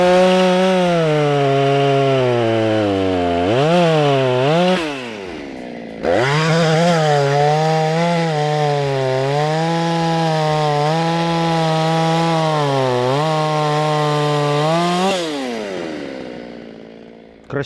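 An Efco MT 6500 professional petrol chainsaw cuts through a thick log, its engine droning loud and close at high revs with pitch sagging under load and rising between cuts, no talk over it.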